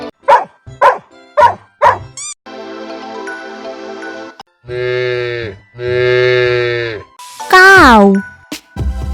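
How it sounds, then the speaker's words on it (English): Several sharp dog barks open, then a bell tone, followed by long, loud, close cow moos with rising and falling pitch, each sustained for about a second or more with short gaps between. "Cow."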